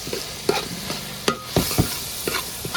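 Crushed onion, ginger and chili fry for chicken curry while a spoon stirs and scrapes the pan in sharp, irregular clinks over a steady soft sizzle.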